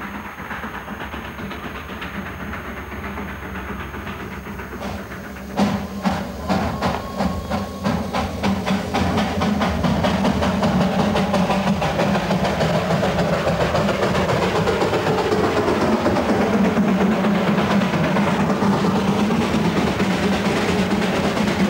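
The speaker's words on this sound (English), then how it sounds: "the train has to reverse itself onto a new level" A train reversing on a steep mountain railway that climbs in loops: a steady, loud rumbling run with rhythmic clicking of wheels and a heavy engine drone, building after a quieter opening.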